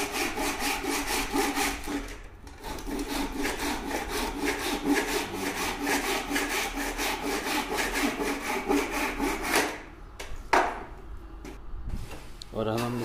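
A hand saw cutting off protruding plywood strips while making a 24-inch plywood carpenter's square, with fast, steady, close strokes for about ten seconds, then a pause and a few knocks and scrapes as someone speaks.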